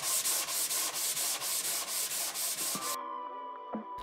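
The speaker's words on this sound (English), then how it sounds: "I'll do some hand sanding up to 400 grit" A wooden case is hand sanded up to 400 grit, a rhythmic rasping stroke repeated about a dozen times at a steady pace close by. The sanding then stops and a quiet, faint tonal hum lingers with a small knock.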